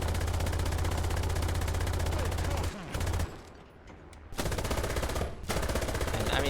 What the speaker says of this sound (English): So we have a machine gun, first of all.